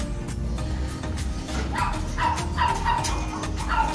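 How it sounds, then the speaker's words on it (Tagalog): A dog barks several times in quick repeated bursts in the latter half, sounding fairly near. The barking rises over a steady rumbling background of engine or outdoor noise that runs throughout. "may tumatahol na yung aso"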